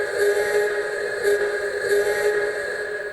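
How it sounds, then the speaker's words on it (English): A steam train whistle effect played on a theatre organ sounds as a sustained, chord-like whistle tone held steadily with slight pulsing swells, loud and alone without talk. "along comes the steam train"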